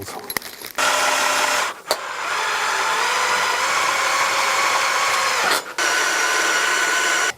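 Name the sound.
driving screws into pergola frame corner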